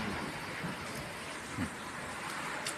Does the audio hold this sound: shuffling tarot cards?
no